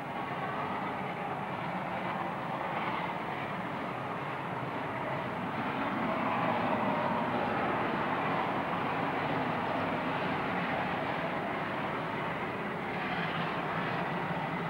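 A steady, continuous broadband rumble of a GM AM Garratt steam locomotive double-headed with a Class 24 on a South African steam safari, heard from a distance at a fairly even level across the clip, with no talk.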